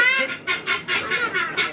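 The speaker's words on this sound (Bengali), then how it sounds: "অনেকগুলো দেশি মুরগি আছে না ভাই" Native country chickens cluck and squawk in rapid, close, loud bursts at a poultry seller's.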